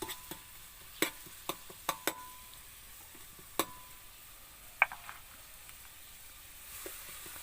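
Finely chopped shallots frying in boiling oil make a faint, steady sizzle, broken by several sharp clicks and taps of a utensil against the pan.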